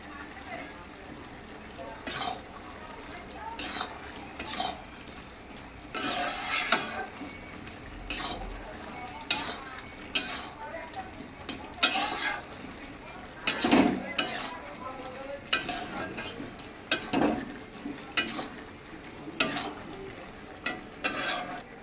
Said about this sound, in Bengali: সব মশলাটা আমি মিলিয়ে নিচ্ছি।